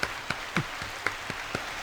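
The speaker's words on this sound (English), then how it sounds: "Get the claps." Sparse claps from a few people at a hockey-themed podcast greeting a guest, about seven distinct claps spaced out and fairly close, with no talking over them.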